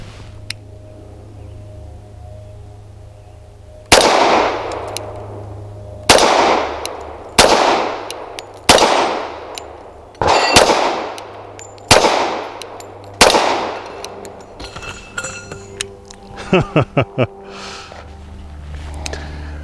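A Tisas Night Stalker 1911 pistol fires Idaho Ordnance 230 grain rounds: a string of about eight loud, sharp shots spaced a second or two apart, each with a ringing decay, followed by light metallic clatter.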